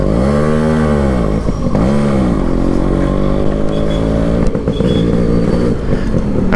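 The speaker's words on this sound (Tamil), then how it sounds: "ஸோ எக்ஸாஸ்ட் நோட்டே செம்ம சூப்பராக இருக்குது." A Yamaha RX135 motorcycle with performance upgrades runs close by, its engine and exhaust loud and throaty, rising and falling through a couple of revs before it settles into a steady rumble.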